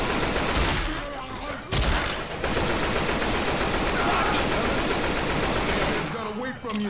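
Rapid bursts of AK rifle fire in Left 4 Dead 2, loud and continuous through most of the stretch with a short break near the start and a fade at the end, while a voice talks over it.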